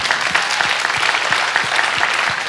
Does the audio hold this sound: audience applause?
yes